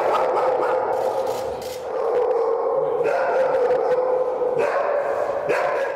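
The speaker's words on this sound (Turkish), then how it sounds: "Başkanı korumaya çalışan Yume hırlamaya başladı." Vladimir Putin's guard dog growls continuously and close by, a rough, steady rumble broken by short yips and barks that runs for several seconds without any talking over it.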